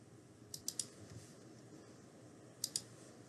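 Computer mouse clicks, a quick triple click followed later by a double click, close and crisp against quiet room tone.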